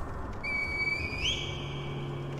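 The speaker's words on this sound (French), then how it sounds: "Magnifique, un sifflement très net." A clear, sustained whistle blown through a reed in the video game Sekiro rises slightly in pitch partway through, standing out alone over a low game ambience.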